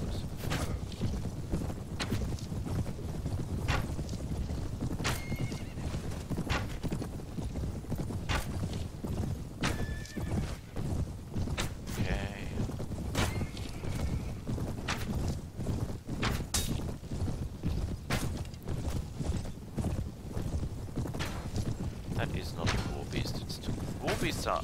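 Jatu war beast horses in Mount & Blade: continuous rhythmic hoofbeats and clip-clopping from several mounts, steady and fairly close, with a voice heard now and then in the mix.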